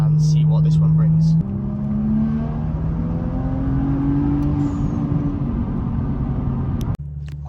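BMW M235i with a Stage 1 tune pulling hard in third gear, a loud, close engine drone climbing steadily in pitch for about seven seconds before cutting off abruptly, with the gear change or lift audible at the end.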